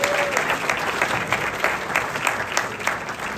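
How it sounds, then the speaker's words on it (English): A breakfast crowd claps for Queens borough-wide elected officials, the Borough President and District Attorney; loud, full applause from many people, with sharp individual claps popping out of a steady wash throughout. "let's have a round of applause for our two elected, borough-wide elected officials"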